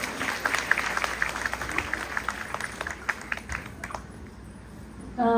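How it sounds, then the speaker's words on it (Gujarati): Audience applause at a women's gathering where a mother gives a speech: a steady patter of hand claps, moderately near, thinning out toward the end before a louder burst at the close. "જોરદાર તાળીઓ।"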